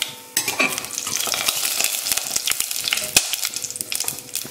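Onion, black pepper and fennel seeds sizzle and fry in a hot pan for a Chettinad vegetable kurma, with a steady close crackle broken by stirring scrapes and a few sharper pops.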